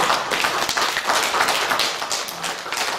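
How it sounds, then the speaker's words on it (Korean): Audience clapping at a talk in Sokcho welcoming a city mayor as a guest, a moderately loud, continuous round of applause throughout. "큰 박수 부탁드립니다"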